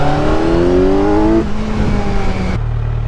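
A Kawasaki Z900 motorcycle engine revs up loud and close with a rising whine, then drops back, builds again and falls to a lower steady drone.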